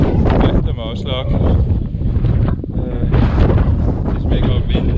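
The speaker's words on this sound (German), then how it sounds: "Es ist mega windig." Strong wind blasts across a microphone high on an Albanian mountain in the remote Devoll Valley, loud continuous roaring buffets with rumbling gusts, no voices heard.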